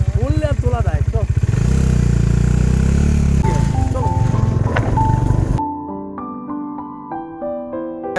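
A heavy motorcycle carrying a rider and pillion passenger on a day trip near Kolkata: a loud, close engine drones steadily for about five seconds, then drops back as music takes over the rest.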